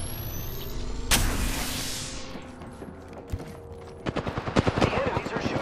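Enemy gunfire in the shooter Apex Legends, a rapid burst of close shots near the end after a whooshing sweep and a lone crack, with a spoken voice line in the background.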